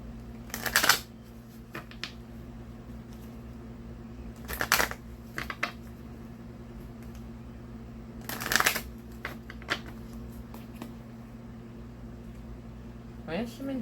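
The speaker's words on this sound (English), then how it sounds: "Let me shuffle." Oracle cards being shuffled by hand in three separate bursts of quick riffling, close and crisp, with quiet room hum between bursts.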